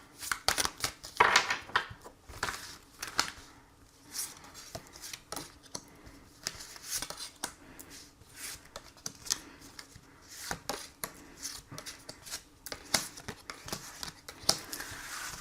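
Tarot cards are shuffled and drawn, with crisp riffles, slaps and flicks in an uneven rhythm, close and fairly quiet with no talking.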